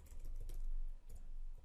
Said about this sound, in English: Then here I'll just type